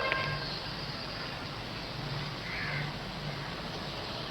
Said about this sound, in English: to listen to the noise of that crow